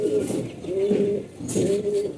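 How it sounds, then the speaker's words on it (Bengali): Racing pigeons coo in a loft, giving soft repeated low throaty coos in a slow rhythm close by, with faint fluttering between calls. "আর আমার কবুতরগুলো দেখেন, এখানে অনেকগুলো কবুতর আছে।"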